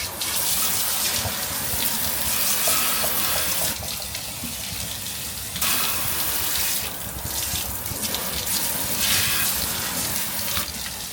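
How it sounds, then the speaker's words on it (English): A pull-down kitchen faucet sprayer in shower mode hisses out a steady spray of water onto a sink, loud and continuous with slight shifts in tone as the spray moves. "There's a shower."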